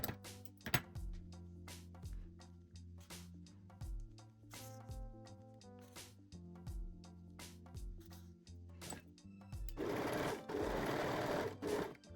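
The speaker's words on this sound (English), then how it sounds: "Pin, baste and sew the second side seam." A sewing machine runs in short bursts stitching the side seam of fold-over-elastic panties, a rapid steady whir with clicks between bursts, then a longer, denser run of stitching near the end, close and with no talk.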